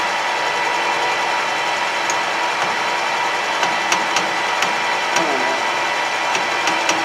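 A metal lathe cuts steel under power feed, making a steady mechanical hum and whir with faint ticks and small scraping clicks scattered through it.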